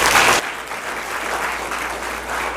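A crowd at a debate event applauds FCCLA students, with a dense, steady burst of clapping that is loudest at the very start and then holds at an even level.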